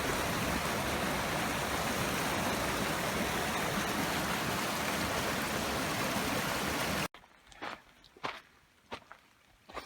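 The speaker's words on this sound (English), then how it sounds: "Walking alongside a little creek here." A little creek in the Grand Canyon rushes in a steady, loud, full wash of flowing water for about seven seconds, then cuts away to quieter outdoor sound with a few footsteps.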